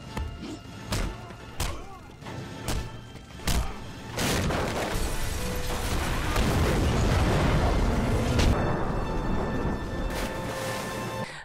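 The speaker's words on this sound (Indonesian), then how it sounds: "atap yang telah terbakar membuat gedung tersebut kembali meledak." In a film scene, a series of sharp bangs gives way to a long, roaring blast as a burning building explodes, rumbling and crackling for several seconds before slowly easing off.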